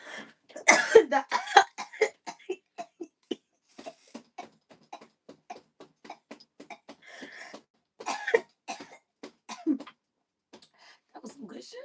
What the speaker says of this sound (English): I ain't coughed like that in a long time.